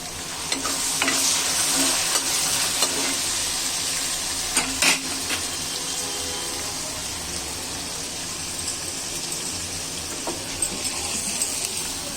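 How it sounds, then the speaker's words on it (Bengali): Lentils go into hot oil for a leafy greens dish with a bright, continuous hiss, and a spoon clinks and scrapes against the pot now and then as they are stirred. "তেলটা গরম হয়ে এসেছে ঢেলে দিচ্ছি এখান থেকে একটু ডাল দিয়ে দিচ্ছি"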